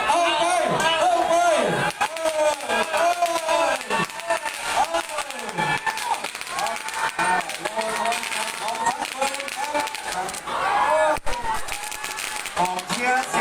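Crowd at a sky lantern launching contest in Lamphun, Thailand, cheering and calling out loudly behind an excited announcer who talks almost without pause.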